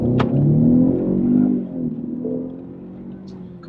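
A 2015 Lincoln MKC with a 2.3-liter four-cylinder turbo engine pulls away from a dead stop, a low, droning engine note that swells then eases, heard from inside the cabin.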